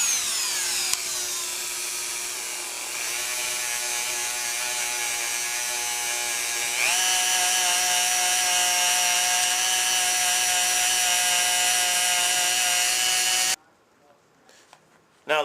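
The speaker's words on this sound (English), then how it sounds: "we'll slowly step the Dremel up" A Dremel rotary tool buffs polishing compound onto a metal gun receiver with a steady, high whine that climbs in pitch as the speed steps up, running loud and close for about thirteen seconds before it cuts off.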